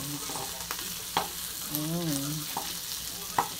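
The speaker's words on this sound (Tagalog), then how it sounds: "Kulay brown po natin yung garlic na ang tawag sa Surigao ay ahos" Garlic fries in hot oil until brown, giving a steady close sizzle with a few light stirring taps, while a faint voice murmurs briefly in the background.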